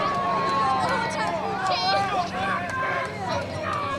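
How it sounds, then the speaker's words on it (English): Crowd at a college baseball game between Abilene Christian and Sam Houston reacting to an umpire's call, a steady murmuring roar with scattered shouts and a whistle, voices mixed throughout. "you can hear the reaction from the crowd"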